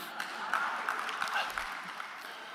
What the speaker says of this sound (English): I thought I'd get a little cheap applause from that.